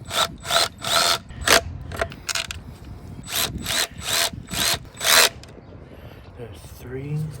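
A screwdriver drives screws into a plastic mass air flow sensor housing on a 2002 Mitsubishi Montero Sport, heard as a quick series of sharp ratcheting bursts close by with short pauses between them, and a brief voice near the end.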